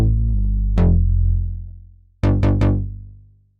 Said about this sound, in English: You can also hear there's some sort of low pass filter being closed.